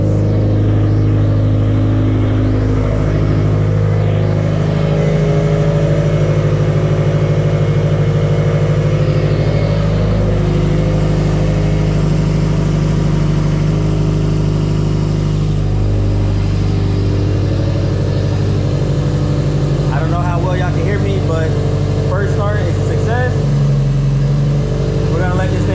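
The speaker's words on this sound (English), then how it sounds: "now that we got the first start out the way, now that we got the car all warmed up" A freshly built 500whp Subaru STI idles after its first start and warms up, its engine giving a steady, close, continuous drone with a few small shifts in pitch, and a voice is briefly heard near the end.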